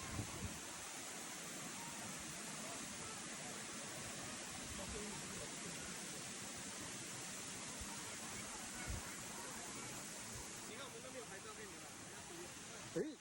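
Lata Gapi waterfall in Serendah, Selangor, heard as a constant broad rush of falling water that stays steady and fairly distant, with a few faint knocks near the end.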